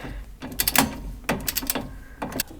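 A torque wrench ratchets in short clicking bursts while tightening an Old Man Emu steering stabilizer bolt on a 2004 Jeep TJ Wrangler, three close mechanical bursts separated by brief pauses.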